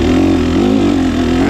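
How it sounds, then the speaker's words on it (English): A TPI two-stroke enduro motorcycle lugs at low revs as it crawls over rough hard-enduro terrain, giving a loud, close, steady throbbing drone with slight wavering in pitch. "This TPI bike does lug real good."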